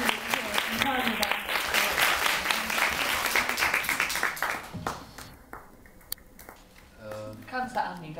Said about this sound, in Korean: 박수 한번 보내주시고요.